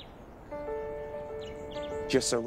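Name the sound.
birdsong in Andros pine forest, Bahamas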